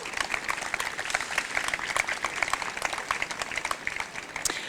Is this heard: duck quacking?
no